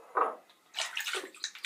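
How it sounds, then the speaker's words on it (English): Cold water running into a bathroom sink during a shave, a short splash followed by a steadier, hissing stream, close and fairly quiet. "Cold water in the sink."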